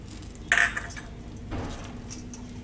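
A metal spoon clinks sharply once against a pan of cumin seeds in hot ghee, then scrapes softly as it stirs, close up over a low steady background hum.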